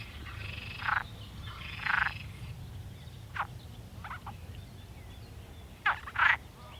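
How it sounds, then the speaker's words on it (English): A Perez frog, a Spanish relative of the marsh frog, gives several short croaking calls outdoors in the morning: a pair of rasping croaks, a few quieter clicks, then a final double croak, moderately distant over a faint background hum. "I saw my first ever Perez frog, a relative of the marsh frog I get here in Essex."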